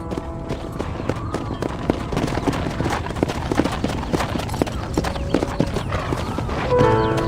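Horse hooves clip-clop steadily in Red Dead Redemption, a dense run of sharp, close hoof strikes over a busy game soundscape, with a brief louder swell near the end and no speech.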